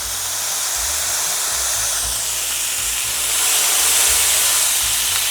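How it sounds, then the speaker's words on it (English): A Costco wagyu ground beef patty on foil is pressed flat under a pot into a smash burger, giving a loud, continuous broadband sizzle that swells slightly toward the end, close and alone. "I'm going to grab a pot, and I'm going to press down."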